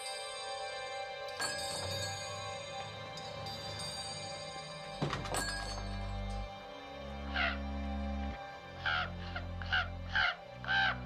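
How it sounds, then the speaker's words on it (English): A crow caws outdoors in a series of harsh calls, first isolated, then four or five rapid caws in a row toward the end, moderately loud over a background of music. "It's a nice crow you got out there."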